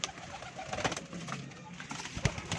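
Domestic pigeons coo softly in a loft where a dealer shows a flock of about fifteen birds, a few low throaty calls rising over a quiet, murmuring background with a faint voice in the distance.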